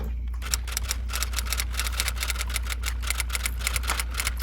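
Quick fingers tap rapidly on a keyboard or phone screen, a steady stream of crisp, close clicks in an even rhythm over a low room hum, with no one talking.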